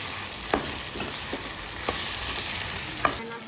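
Okra and potatoes frying in a pan are stirred, the steady sizzle broken by several soft scraping knocks of the spoon against the pan, close and without talk.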